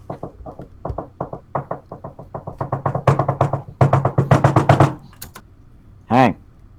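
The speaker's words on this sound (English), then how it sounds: "He just knocks on Hank's door." Knuckles rap rapidly on a door, a long run of sharp close knocks growing louder and faster, then stopping, followed by a brief vocal sound at the end.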